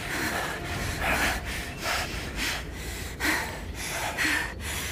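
Loud, heavy panting, ragged breaths coming in a quick, steady rhythm of gasps and huffs, close and with no talking.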